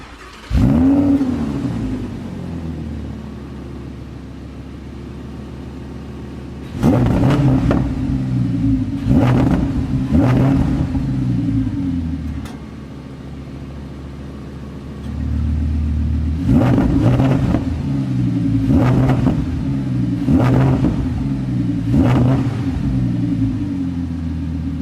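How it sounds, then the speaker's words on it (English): An Audi R8 V10 rear-wheel-drive engine starts and idles with a deep, steady rumble, then climbs through several sharp, loud revs in two separate bursts before falling back to idle. Recorded up close with no talking. "So let me fire this thing up so you can take a listen."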